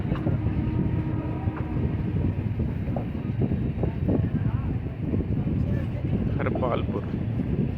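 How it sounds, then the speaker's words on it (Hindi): Train noise from the UP Sampark Kranti Express pulling out of Harpalpur railway station, a steady loud rumble with rattling and clanking throughout and wind buffeting the microphone; a voice speaks over it. "निकल चुकी है अपनी ट्रेन हरपालपुर से"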